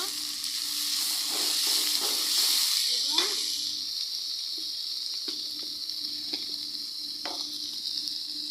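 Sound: onions frying with ground chili paste

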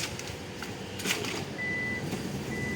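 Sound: electric sliding door of a Hyundai H1 van operating

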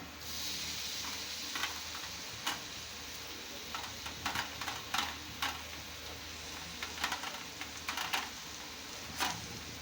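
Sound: sautéing tomato in onion masala

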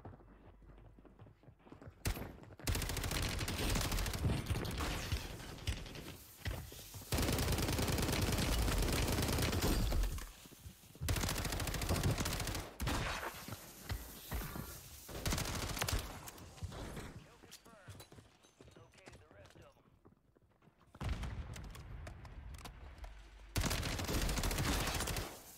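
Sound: gunshots in a video game

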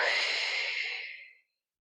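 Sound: deep inhale and exhale breathing

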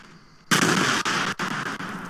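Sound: grenades exploding in the video game Fortnite

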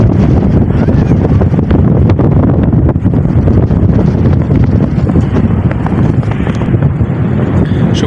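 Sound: strong wind blowing on a hilltop

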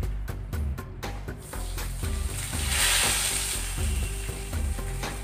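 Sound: tempering whole red chillies sizzling in hot oil

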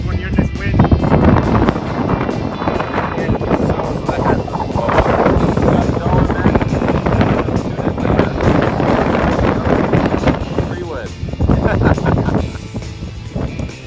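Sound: strong wind blowing across golf course

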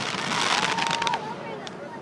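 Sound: fireworks exploding

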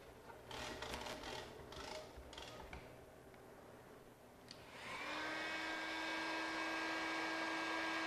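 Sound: heat gun heating window tint film

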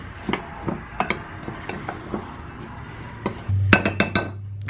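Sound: mixing apple walnut crisp topping in a bowl

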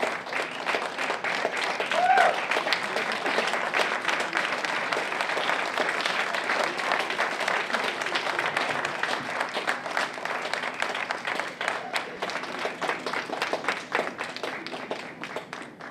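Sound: applause for debutant tango dancers

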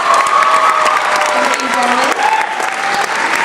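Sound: audience applause for choir soloists

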